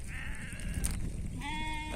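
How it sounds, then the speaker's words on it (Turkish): A sheep that has been poisoned by eating clover lets out a couple of strained, wavering bleats, close by and loud, with faint farmyard background noise. "bizim bir tane koyun zehirlendi"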